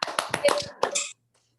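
A brief, sparse patter of hands clapping from a small audience at a Malaysian gathering honouring Bro Naim, only a handful of sharp claps over about a second before it stops.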